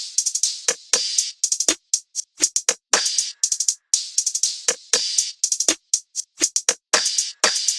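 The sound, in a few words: drum loop from a drum kit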